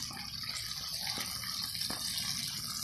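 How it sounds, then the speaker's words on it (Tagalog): Vinegar pours into a pan for fish escabeche, a steady soft trickling stream with a couple of faint clicks, close and quiet, alone without talk. "Maglagay tayo ng suka."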